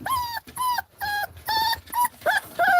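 Small poodle or doodle-type dog whimpering and whining in a string of high, drawn-out cries, close and fairly clear, with short pauses between them and almost no talk.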